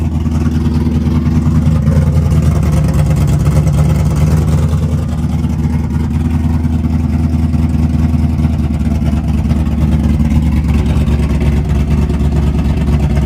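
A small engine fitted with a new muffler runs steadily and loudly close by, with a low, even rumble and a slight rise in pitch midway.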